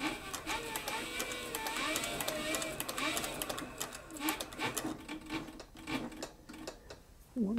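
A Cowboy CB4500 (Juki TS-441) saddle stitching machine with a 230 V electronic motor sews leather in a fast, steady mechanical chatter, close up, slowing and stopping near the end.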